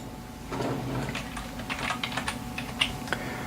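Rapid clicking of a computer keyboard as a search term is typed in editing software, a short burst of close, crisp keystrokes over a low room hum.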